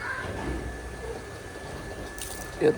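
Water runs steadily from a tap with a soft, even hiss, and a short clunk lands near the end.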